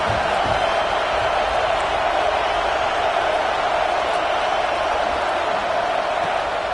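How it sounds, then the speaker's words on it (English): A huge Alabama Crimson Tide stadium crowd roars continuously on third down at a college football game against Nebraska, a dense sustained wall of noise heard from within the stands. "The Tide crowd rolling noise down on the Saban field on 3rd down"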